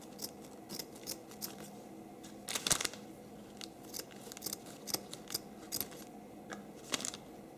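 Scissors snip through ribbon for a Father's Day gift basket, a series of quiet, crisp cuts at irregular intervals with a busier cluster of snips in the middle, heard up close in a quiet room.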